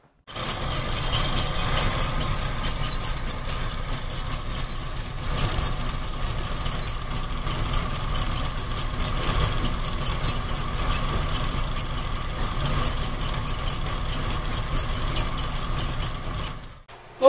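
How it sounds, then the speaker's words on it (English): A bandsaw cutting metal stock runs as a continuous mechanical drone with a faint rhythmic ticking of the blade, steady and fairly close throughout before stopping at the very end. "Okay, we're ready for the bandsaw."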